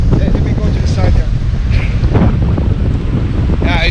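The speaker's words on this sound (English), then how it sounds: "this place is really a windy place." Strong, steady wind buffets the microphone at Pali Lookout on Oahu, a loud continuous low roar with gusting swells throughout, with faint background sounds occasionally breaking through.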